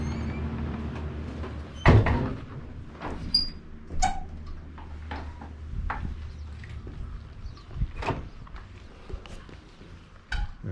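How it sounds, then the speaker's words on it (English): Big heavy wooden doors into the yard of an old prison in Montana, with a sharp loud thud early on, then scattered knocks, creaks and clacks over low room rumble. "Big heavy wooden doors going into the prison yard."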